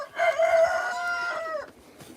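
A rooster around five to six months old crows once, close and clear, with a long drawn-out call that breaks off at the end.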